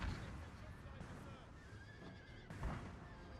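A horse whinnies amid busy battle noise in Napoleon: Total War, with shouting voices and clatter underneath, a brief loud burst near the start and another later.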